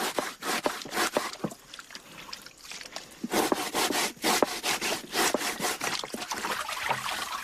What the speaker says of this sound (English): The first stage of bread making is to scrape the tough outer skin of the manioc.